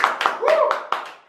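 Several quick hand claps, about five sharp bursts in just over a second, close and fairly loud, with a voice overlapping the clapping.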